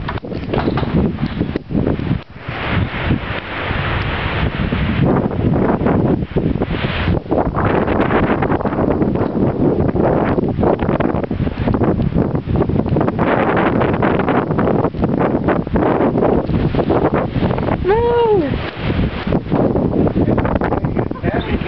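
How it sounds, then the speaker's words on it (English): Steady West Texas wind buffets the microphone outdoors, a continuous rumbling roar with gusty surges throughout. "It's just a little windy outside."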